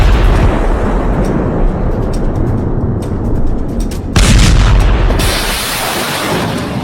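Heavy missile explosions rumble in a dense, loud barrage, with a sharper blast boom near the end and no voices.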